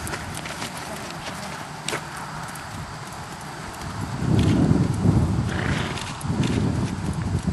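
Hooves of a Tennessee Walking Horse mare thud on the ground in an uneven gaited rhythm, growing louder and closer partway through, with a low background hum.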